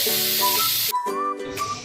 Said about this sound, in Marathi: कुकरची शिटी होत आहे